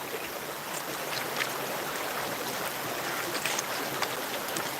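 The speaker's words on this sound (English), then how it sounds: "Don't you love that peaceful sound of rushing water?" Rushing water pours and churns steadily at close range, a dense broadband wash with small splashes and bubbling spikes, continuous and fairly loud with no talking.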